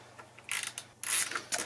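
A Torx T30 driver ratchets as it backs bolts out of a guard on a BMW R1200GS Adventure motorcycle: two close, crisp bursts of rapid ratcheting clicks with a short pause between.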